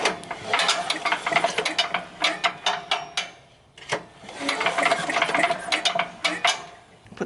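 A ratchet clicks in quick repeated bursts while tightening the spark plug back into a Sears Craftsman 9HP wood chipper/spreader, close and fairly loud, with one short pause near the middle and no talking.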